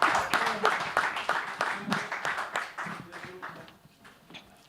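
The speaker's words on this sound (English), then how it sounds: "Guys, please give them a round of applause." Scattered clapping from a small audience for competing teams at a hate speech challenge event, uneven individual claps fading out over a few seconds, mixed with chatter.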